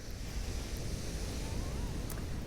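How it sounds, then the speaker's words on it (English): Ocean surf rolling onto a beach toward dusk, a steady broad wash of waves mixed with wind rumbling across the microphone, continuous and fairly close with no talking. "let's look at the ocean before we go"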